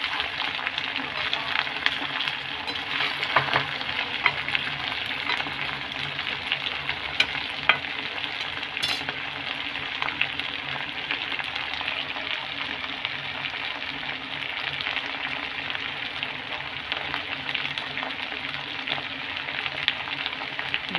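Chicken feet fry in a hot pan, giving a loud, steady sizzle throughout with occasional scrapes and crackles from stirring, close up and without pause.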